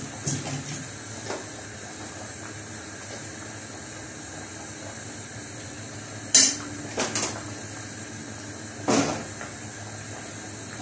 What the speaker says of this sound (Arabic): ثواني بس اشوف المعلقه